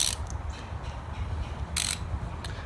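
A socket wrench ratchets on a bolt while removing accessories from an LS1 engine in a 240sx S14 drift build, giving short bursts of quick clicking near the start and again mid-way over a low garage rumble.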